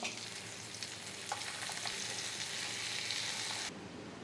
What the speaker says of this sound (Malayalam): ഇത് തിരിച്ചും മറിച്ചും ഒക്കെ ഇട്ട് കൊടുത്ത് അത്യാവശ്യം ഒന്ന് ഫ്രൈ ആക്കി എടുക്കണം